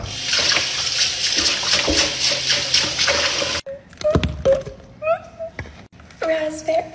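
Strawberries are washed under a running tap, a loud, steady gush of water for about three and a half seconds. It stops abruptly, followed by speech and small kitchen clatters.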